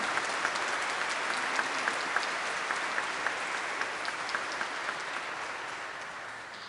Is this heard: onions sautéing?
no